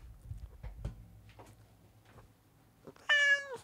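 Quiet shuffling and soft knocks, then a single clear, close meow imitated by a person near the end.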